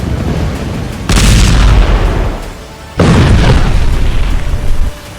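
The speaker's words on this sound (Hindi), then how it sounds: "गाजा में हर घंटे हो रही ताबड़तोड़ फायरिंग ने हमास के लड़ाकों के होश उड़ा दिए हैं।" Heavy blasts and firing in Gaza during the Israel–Hamas conflict: two loud, broad booming bursts, the first starting about a second in and the second near the three-second mark, each rumbling on and fading, with no voices.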